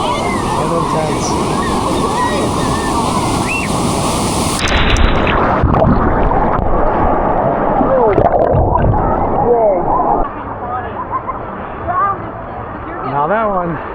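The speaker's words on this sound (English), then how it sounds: "Waves are fun and intense." Wave pool surf at Typhoon Lagoon crashing and churning loudly around a swimmer, water sloshing close by, with a voice speaking over the turbulent wash.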